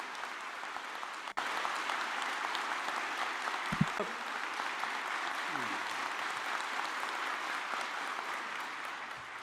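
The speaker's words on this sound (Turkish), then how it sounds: "Bu avuçları yarılırcasına alkışlayan insanların içerisinde sen de varsın Fethi Yıldız." A crowd at a political rally applauds in a sustained, even wash of clapping heard from a little distance, with a sharp knock near the start and a brief higher tone partway through.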